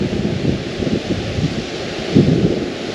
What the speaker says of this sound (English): It's a pretty shitty day. Raining.